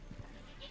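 Goats bleating on a small farm, a couple of short faint calls in quick succession against a quiet background.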